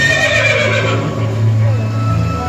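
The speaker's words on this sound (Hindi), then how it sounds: "जन्म के वक्त अश्वत्थामा के रोने की आवाज घोड़े के हिनहिनाने जैसी थी" A horse neighs loudly and close, its whinny ringing over a steady low rumble for a couple of seconds, with no talking.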